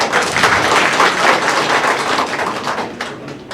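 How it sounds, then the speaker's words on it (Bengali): A hall audience greets Farid with loud, sustained applause, many hands clapping in a dense wash that holds steady for several seconds and fades slightly at the end. "তারা ফরিদের জন্য জোরে একটি হাত তালি"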